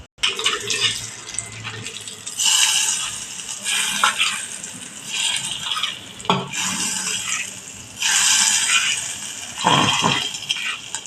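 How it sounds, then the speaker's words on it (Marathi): Hot spice tempering with carom seeds, turmeric and red chilli poured over a fresh field bean usal in a home kitchen, giving bursts of sizzling and splashing hiss that come and go in several waves, fairly close, with no talking. "आपली फोडणी आता आपण ही उसळीवर देणार आहोत"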